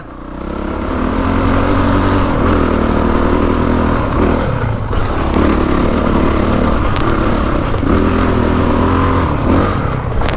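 A Honda CRF450RX dirt bike climbing a rough trail, the engine loud and close with continuous revving that rises and falls, and clattering knocks from the terrain along the way.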